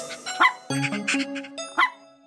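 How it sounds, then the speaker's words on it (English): A dog in an Among Us animation barks several times in quick succession, loud and close, with whimpery yips mixed in. "A dog! Over here!"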